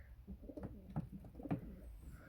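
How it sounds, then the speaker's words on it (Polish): Soft, low coos from breeding pigeons rise and fall a few times, quiet and close, over faint background noise on a frosty day. "Gołębie się super prezentują. Żywe, silne, płodne gołąbki."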